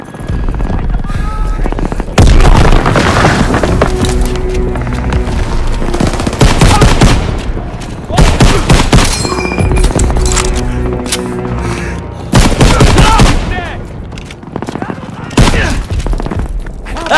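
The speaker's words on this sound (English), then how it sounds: "Daniels, get a grenade in that bunker" Gunfire and a grenade blast in the Call of Duty WWII D-Day mission, loud bursts of firing and impacts crowding the scene while soldiers shout over the battle.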